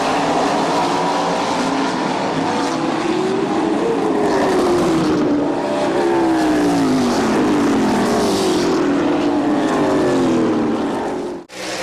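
Race cars roar around the oval at Midvale Speedway, their engines loud and continuous, rising and falling in pitch as the cars pass through the turns.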